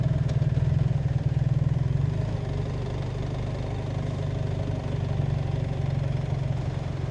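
A motorcycle engine idles steadily at a border crossing between China and Laos, a close, continuous low chugging throb with no talk.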